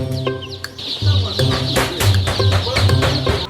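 Flock of young hens on a new poultry farm of about 2,500 birds, a dense chorus of continuous clucking and rhythmic squawks, close and loud, with a faint voice briefly mixed in.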